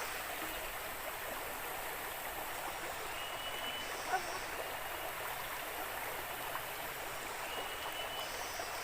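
A river flowing under a heavily clouded sky, a faint, steady rushing wash of water heard from some distance, even and unbroken.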